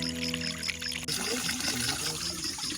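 Water pours from a natural mountain spring source in Leyte, Philippines, a steady close trickling splash with people talking over it.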